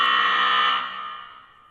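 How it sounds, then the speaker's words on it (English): A basketball halftime buzzer blares in one loud, sustained electronic tone that holds briefly and then fades away, with nothing else heard. "That was the halftime buzzer."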